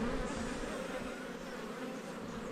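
Dense, steady drone of honey bees swarming at an Australian hive in spring, a colony short of food, filling the clip with continuous close buzzing and no voices.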